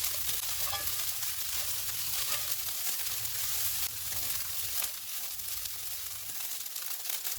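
Capsicum and cabbage stir-frying for spring roll filling, a steady close sizzle with scraping stir sounds running throughout, no voices.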